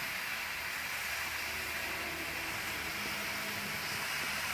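Sweet pumpkin slices fry in a pan with a little oil, giving a steady, even broadband hiss and sizzle throughout, close and moderately quiet, with no talking.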